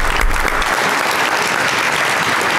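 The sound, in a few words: audience applause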